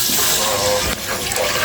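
Water pours steadily into a pot for boiling string beans (sitaw) in a home kitchen, a close, continuous splashing rush with no pause.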